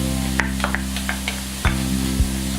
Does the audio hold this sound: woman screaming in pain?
no